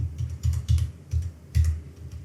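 Rapid keystrokes on a computer keyboard entering a string of digits, close and crisp, in uneven bursts of clicks with short pauses between them.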